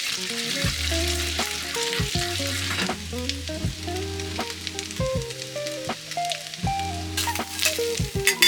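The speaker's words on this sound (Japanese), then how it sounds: "バターを入れていって、軽くね揺すっていきます。" Butter sizzles in a hot pan that is gently shaken while caramelizing food, a steady close frying crackle and hiss that runs throughout under melodic background music.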